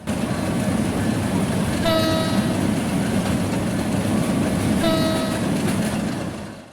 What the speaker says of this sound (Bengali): কমলাপুর থেকে রাজশাহীর উদ্দেশ্যে আবারও ধূমকেতু এক্সপ্রেস ট্রেনটি ছেড়ে যাচ্ছে